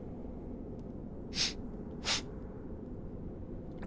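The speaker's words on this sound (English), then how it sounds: "Sorry if you can hear that sniffling." Two short, sharp sniffles through a stuffed-up nose, spaced under a second apart and fairly close, over a steady low background hum with no talking.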